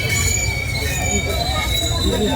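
A crowded passenger train on the Mantralayam to Belagavi route: thin, high metallic wheel squeals ring over a loud, steady rolling rumble, with voices of people aboard audible in the mix.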